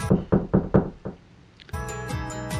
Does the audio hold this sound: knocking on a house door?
yes